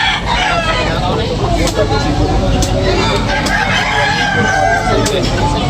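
Yellow-legged fighting cocks at a bustling poultry market in Tabunok, Talisay, Cebu, with a rooster crowing amid constant crowd noise and traffic, and voices talking throughout.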